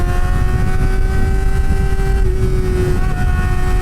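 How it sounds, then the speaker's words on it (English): A Kawasaki ZX-4RR motorcycle engine holds a high, steady rev in second gear, a continuous close whine with strong tonal harmonics running throughout. "Just keep it revving high in second gear."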